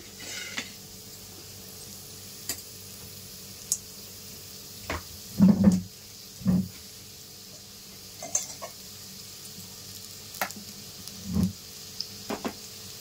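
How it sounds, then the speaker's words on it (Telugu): Sliced onions and green chilies frying in oil in a pan, with a faint continuous sizzle broken by a few louder stirring scrapes and clatters of a spoon against the vessel. "ఆయిల్లో వేసుకొని అందులో కూడా పచ్చిమిర్చి పేస్ట్ వేస్తాం కాబట్టి 2 పచ్చిమిర్చి వేసుకోవాలి"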